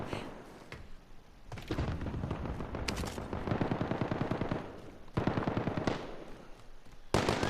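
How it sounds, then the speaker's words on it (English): Rapid bursts of automatic gunfire crackle almost continuously in a video game, with sharper loud volleys near the start and end. "I can hear gunshots."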